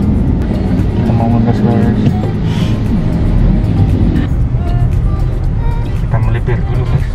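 A car's engine rumbles low beneath a person's continuous talking from inside the vehicle, a steady motor drone with road noise that stays in the background throughout.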